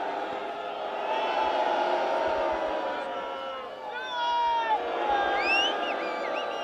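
A large outdoor protest crowd cheers and shouts in a continuous roar, with whoops and whistles rising above the dense mass of voices, swelling toward the end.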